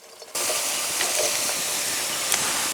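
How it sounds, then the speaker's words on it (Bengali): Cabbage drops into a hot wok and bursts into a loud, steady hissing sizzle that holds for a couple of seconds, with a few brighter crackles riding over the broad frying noise. "কড়াইতে কপি দিয়ে দেব"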